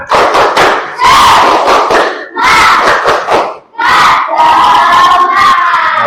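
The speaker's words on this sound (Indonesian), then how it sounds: "kalau masih semangat untuk belajar, kita tepuk semangat" A school class performs a rhythmic spirit clapping chant, children shouting loudly in unison with bursts of claps in several sharp phrases separated by brief pauses.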